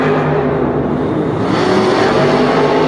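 Monster truck racing in an arena at Monster Jam Minneapolis: a loud, sustained engine roar that swells slightly midway, close and continuous with no talk over it.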